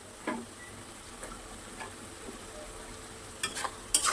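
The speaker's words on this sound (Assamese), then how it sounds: "দি কেনে এই মছলাটো ভালকৈ ভাজি ল'ম" Spice masala with turmeric, garam masala and salt, plus chopped tomato, frying in a pan for mutton head curry; a low, steady sizzle runs throughout with a few sharp stirring clicks, strongest near the end.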